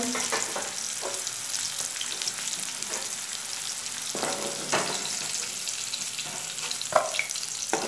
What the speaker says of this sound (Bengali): উচ্ছেগুলো আমার ভাজা হয়ে গেছে